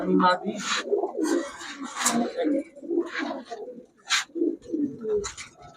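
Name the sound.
Pakistani pigeons cooing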